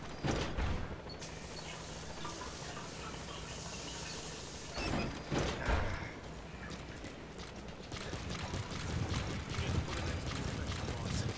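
Shower water running in Metal Gear Solid V, a steady broadband hiss lasting throughout, with a brief louder splash burst midway and a denser, rougher stretch toward the end.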